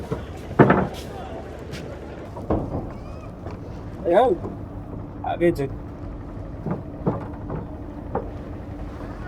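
A boat ride on the Ganges river in Varanasi: a low, steady hum of the boat and moving water runs under close, frequent talk from several people, with a few sharper knocks and voices rising above it.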